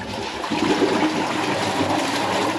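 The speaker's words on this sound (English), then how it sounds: "I can hear lots of water. There it is, coming in through the inlet." Water gushes and splashes steadily into a koi pond filter inlet, a continuous close rushing flow with no pauses.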